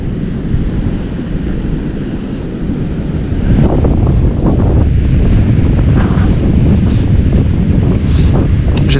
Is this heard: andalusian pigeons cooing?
no